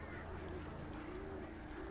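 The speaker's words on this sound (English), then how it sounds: "Okay, so those birds are normal birds." Birds in the Alan Wake video game give faint, wavering calls buried in dense, noisy ambient game sound, with a continuous low background rumble.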